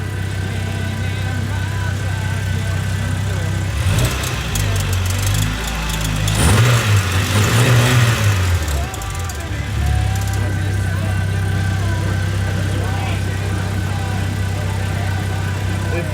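A cammed, rebuilt 2.0 engine runs at a steady idle, with one louder rev burst in the middle before it settles back to an even idle, as people talk nearby.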